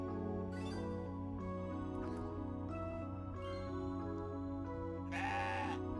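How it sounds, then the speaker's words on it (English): Repeated goat bleats from the video game CrossCode, several wavering calls spaced through the clip over a steady droning game music bed, with a brighter jingling bleat near the end. "Neutral goat noises."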